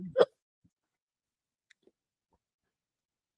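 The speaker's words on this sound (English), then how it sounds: "I got the hiccups." A single short, sharp hiccup comes from an adult man, close and fairly loud, followed by near silence and a few faint clicks.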